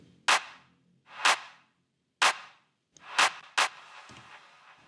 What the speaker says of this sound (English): First of all, we have a clap sound which sounds like this.